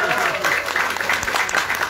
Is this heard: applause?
yes